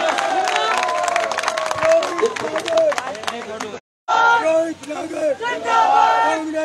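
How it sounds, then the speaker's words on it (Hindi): Crowd at a Congress political rally in India roars with loud shouted cheers and slogan-like cries over scattered clapping, voices rising and falling close by, broken by a brief silent gap. "एक बार बालकृष्ण वशिष्ठ जी के लिए जोरदार तालियां"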